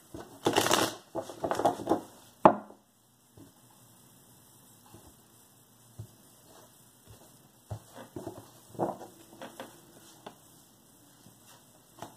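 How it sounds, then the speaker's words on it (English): A deck of tarot cards riffled and shuffled close by, a few quick bursts of papery flicking followed by softer tapping and card handling. "Let's do one more shuffle here."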